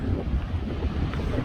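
Steady wind gusts buffet the microphone on an exposed Appalachian Trail ridge top near the New Jersey–New York state line, a dense rumbling rush with no voices.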